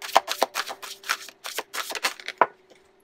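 A deck of angel oracle cards is shuffled by hand close up, a quick run of soft papery riffling flicks in an uneven rhythm that ends in one sharper snap and a brief fade.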